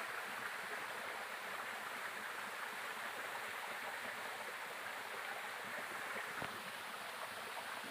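A waterfall gives off a steady, fairly loud broadband rushing roar that holds unchanged for the whole stretch, with no voices over it.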